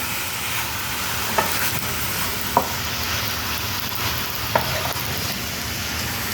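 Meat fat sizzles as it is sautéed in a pan, a steady hissing fry with a few brief clicks of a utensil against the pan, close and even throughout.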